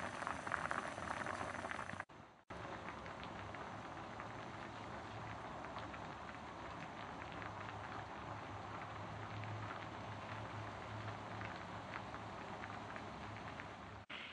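Konnyaku and dried daikon boil hard in a pot, reducing toward a glaze: a steady, dense bubbling and rolling hiss that carries on almost unbroken, with a brief dropout near the start.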